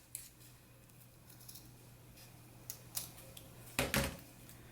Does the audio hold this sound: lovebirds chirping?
no